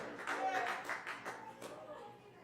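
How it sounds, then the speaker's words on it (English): Faint scattered clapping from a small audience at an evening poetry open mic in Asheville, uneven and brief, with a murmur of voices underneath. "give yourselves a round of applause for being here tonight"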